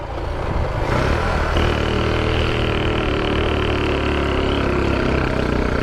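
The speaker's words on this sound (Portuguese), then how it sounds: "Motor batendo." A Shineray 49cc motorbike engine with a knocking fault runs loud and close, a continuous rough buzz that rises in pitch as it revs after a moment, holding a strained, uneven drone.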